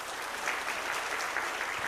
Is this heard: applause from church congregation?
yes